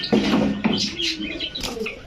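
Large pigeons of breeds such as kaldom, chila, gorra and giribaz, kept in breeding pairs, coo in low repeated phrases close by, with some overlapping calls and chirps.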